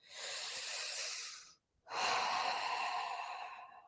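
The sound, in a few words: deep breath in and out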